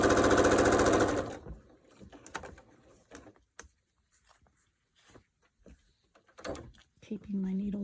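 A sewing machine runs fast, stitching two pieces of fabric together with a quarter-inch seam in a loud, brief buzzing burst. It then stops and is followed by quiet handling noises and intermittent talking.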